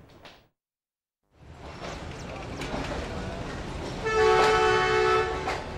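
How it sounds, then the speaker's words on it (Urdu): A passenger train arriving at a railway station blows its horn near the end, a loud sustained tonal blast over rumbling carriage and platform noise that follows a short pause. "جب ریلوے اسٹیشن پر مسافروں سے بھری ٹرین منزل مقصود پر پہنچنے کی سیٹی بجاتی ہے"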